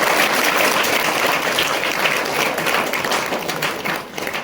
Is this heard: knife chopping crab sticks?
no